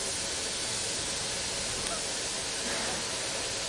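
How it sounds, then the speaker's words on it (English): Steady, dense rush of distilled water flowing from a glass distiller, constant and fairly loud with no breaks or voices. "distilled water is flowing and it is getting collected"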